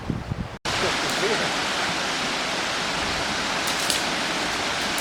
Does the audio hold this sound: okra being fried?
no